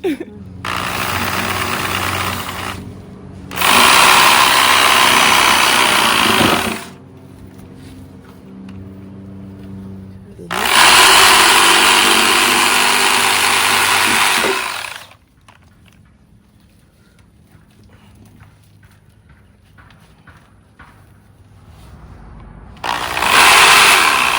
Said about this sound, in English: this is my new handy dandy reciprocating saw that I'm gonna use to cut that plant into 3